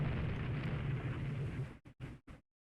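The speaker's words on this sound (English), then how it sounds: "Oh, they have returned fire." Naval gunfire in the warship game Rule the Waves 3, a loud sustained rumbling boom that cuts off abruptly into a few short choppy bursts.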